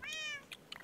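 A cat gives one faint meow followed by a couple of short, quiet chirps, close by but soft.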